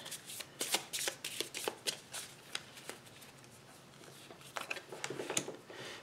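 Cards from the HEXplore It board game are shuffled up close, a run of crisp snapping riffles and slides that ease off mid-way and pick up again, no talking.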